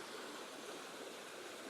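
Water from a river tumbles past a little waterfall edged by trees, producing a gentle, continuous hiss and gurgle at low volume, steady throughout and free of speech.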